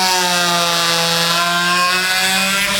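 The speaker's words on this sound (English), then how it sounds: "the next tool I'm going to use is the reciprocating carver" A reciprocating power carver, tilted on its side, cuts into a wooden platter with a steady, loud buzzing whine that carries a strong, even tone and holds without a break, close by and with no talk.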